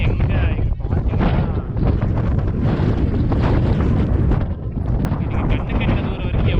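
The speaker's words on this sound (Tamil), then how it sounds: "பயங்கரமாக காற்றடிக்குது" Strong wind roars steadily across the microphone on a hilltop in Vagamon, Kerala, a loud continuous buffeting rush with no breaks.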